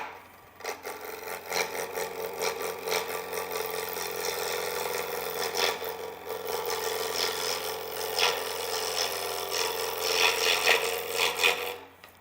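A square wooden candlestick blank spins on a wood lathe at about 1300 RPM, giving a steady close rasping, rubbing whir with brief scraping accents throughout.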